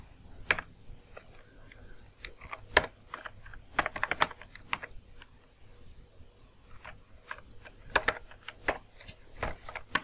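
Keys clack on a computer keyboard in irregular bursts of quick taps with short pauses, close and fairly quiet, while no one speaks.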